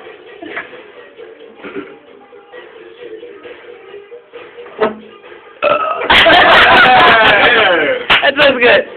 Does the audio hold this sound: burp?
yes